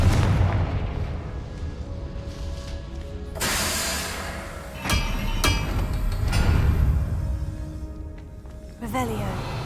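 Confringo explosion spell in the video game Hogwarts Legacy, a loud booming blast with crackling debris, followed by further bursts and impacts amid a busy game soundscape.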